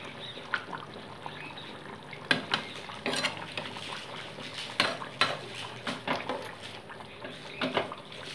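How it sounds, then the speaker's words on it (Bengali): Fried tilapia pieces are stirred into a light curry gravy with potatoes and flat beans, soft bubbling under irregular clinks and scrapes of a utensil against the pan, fairly quiet and close. "দিয়ে মাছগুলোকে ভালো মতো ঝোলের মধ্যে আমি ডুবিয়ে নিচ্ছি।"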